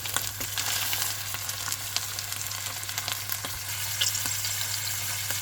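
A veal roast sears in grapeseed oil over medium heat, giving a steady, close sizzle and frying crackle with occasional stirring sounds and no talking.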